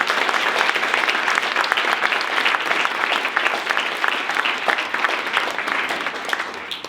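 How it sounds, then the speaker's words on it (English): A large keynote audience applauds steadily and loudly for the full seven seconds, a dense, even wash of many hands clapping with no lull. "I want to have all of you give yourselves a round of applause."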